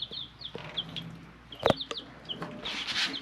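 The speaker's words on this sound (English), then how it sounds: "So these are our baby chicks." Baby chicks peep and cluck softly in short scattered calls, close by, with a sharper burst of chicken noise midway and a cluster of higher peeps toward the end.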